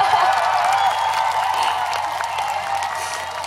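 A jazz festival concert crowd cheers and applauds steadily, a dense wash of clapping and shouting that fades slightly over a few seconds.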